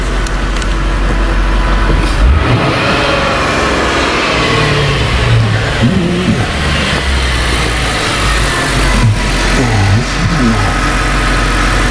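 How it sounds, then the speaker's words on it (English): A 2003 Ford Thunderbird engine with a throttle defaulting fault revs as the throttle is snapped open, producing loud, steady engine noise with a few short rising surges spread across the clip and no talking. "I want to snap the throttle."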